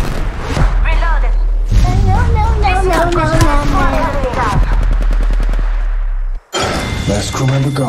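Rapid automatic gunfire in the mobile shooter Apex Legends Mobile, played in a winter mode, rattling beneath loud shouted voices that dominate most of the stretch.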